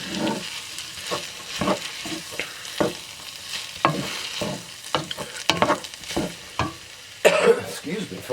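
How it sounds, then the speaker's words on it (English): Minced garlic sizzles in a pan of hamburger gravy while a spoon stirs it in, with a soft frying hiss broken by scraping strokes and a cough near the end. "I'm going to add my 2 tablespoons of diced garlic, minced garlic"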